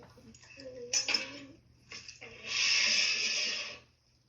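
A spoon stirring chocolate pudding in a pot, a few sharp metallic clinks followed by a steadier scraping swirl against the pot's side, quiet and close.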